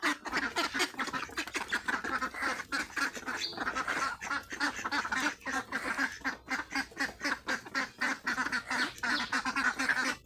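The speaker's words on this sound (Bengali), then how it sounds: "এই যে হাঁস ছাড়তাছি, হাঁস গিনি অনেক পাগল হয়ে গেছে" A flock of hungry ducks being let out to feed, quacking loudly and continuously in a dense, overlapping chorus close by, with no talk over it.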